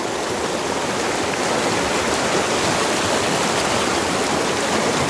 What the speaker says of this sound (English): This is a Glacier Creek.